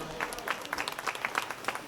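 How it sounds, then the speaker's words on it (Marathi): Crowd at a farmers' gathering clapping for a mobile app launch ceremony, scattered rhythmic claps of moderate loudness, somewhat distant, with faint voices. "जोरदार टाळ्या वाजून आपण"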